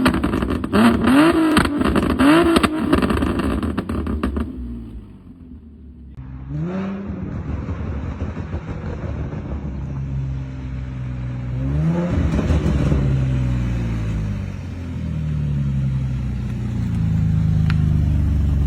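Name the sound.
tuned Infiniti G37 exhaust revving and popping flames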